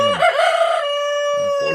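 A rooster near the chicken coop gives one loud, close, drawn-out crow that dips and holds before trailing off, with a short cluck-like burst at the end.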